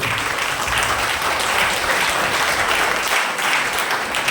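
A church congregation at a Malayalam prayer service claps hands together, a dense, sustained round of applause that stays loud and even for the whole stretch with no voices over it.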